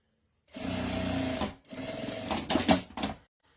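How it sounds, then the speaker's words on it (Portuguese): A sewing machine stitches along the edge of a fabric bag, close and steady, running in two bursts with a short pause between and a few clunks at the end. "Passe uma costurinha aqui bem na beiradinha pra segurar."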